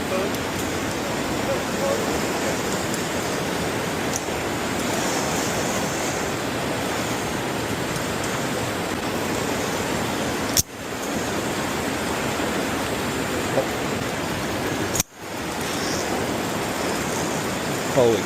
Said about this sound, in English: River's rushing.